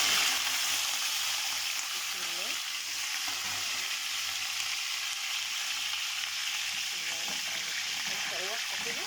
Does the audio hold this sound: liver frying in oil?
yes